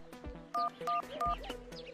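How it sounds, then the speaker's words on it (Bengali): A phone being dialed to call a grandfather: a quick sequence of short keypad tones, several distinct beeps at an even rhythm, clear and close in a quiet room. "দাদুকে একবার ফোন করে দেখি।"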